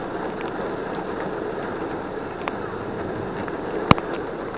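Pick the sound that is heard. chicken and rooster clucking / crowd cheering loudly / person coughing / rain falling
rain falling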